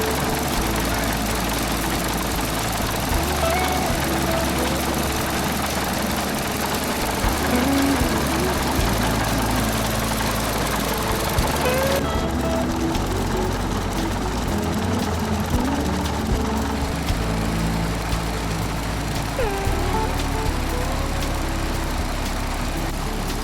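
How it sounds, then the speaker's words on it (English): A BA Swallow L35c vintage light aircraft engine runs steadily through ground run-up checks, a loud continuous knocking drone that stays up close and changes tone partway through. "As always, she starts first time."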